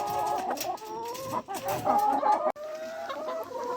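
Hens in a poultry coop cluck steadily around a feeder, several birds overlapping in a busy, close, continuous chorus with no talking.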